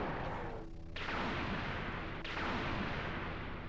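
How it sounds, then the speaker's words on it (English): A loud, continuous barrage of booming explosions in a Sega CD video game, dense and rumbling with sharp bursts layered on top, never letting up. "Oh, here comes like 1 billion explosions."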